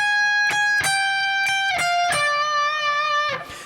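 Electric guitar playing the opening section of a solo, a run of sharp picked notes with ringing harmonics, several quick attacks followed by a longer sustained bend, clear and alone.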